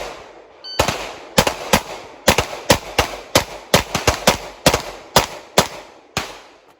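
Glock pistols, a G17 and a G47, fired on a GSSF match stage: about fifteen sharp, loud gunshots close by in quick, uneven bursts with brief pauses between them, and no talking.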